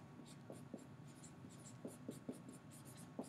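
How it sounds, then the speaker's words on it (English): A pen scratches out a graph heading by hand, close and quiet, with short strokes and light taps spaced irregularly against a faint steady hum. "So I'm going to write essential components"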